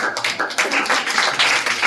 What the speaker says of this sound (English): Clapping for Rakhi Kumari.